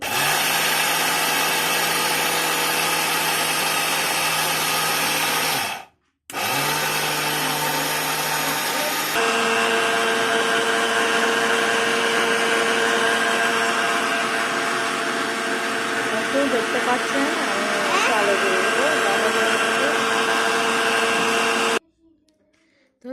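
Kitchen blender grinding soaked rice into flour, a loud steady motor whine running continuously, cutting out briefly once and then resuming before stopping at the end.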